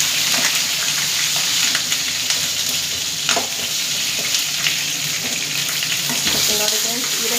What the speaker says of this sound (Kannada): ಹೀರೆಕಾಯಿ ಎಣ್ಣೆಗೆ ಚೆನ್ನಾಗಿ ಅದು ಫ್ರೈ ಆಗ್ತಿರ್ಬೇಕು